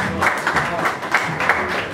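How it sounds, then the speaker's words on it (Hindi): A mushaira audience at an Eid Milan gathering claps in warm, dense applause to welcome the host, a steady close roar of many hands throughout. "तालियों के साथ इस्तकबाल कीजिए आज के नाज़िम मुशायरा जनाब"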